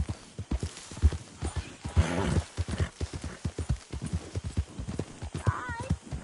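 Horse in the video game Red Dead Redemption 2 moves at a quick pace, with rapid rhythmic hoof clip-clops, snorts and a brief whinny near the end, heard close alongside faint game ambience.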